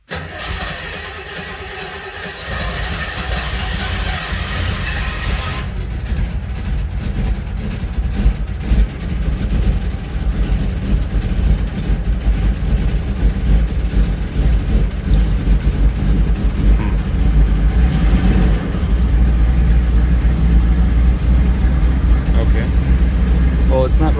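A Rolls-Royce Silver Shadow engine cranks and catches after a moment of quiet, then settles into a loud, rough, uneven idle with a deep low rumble that continues steadily close by, with some talk over it.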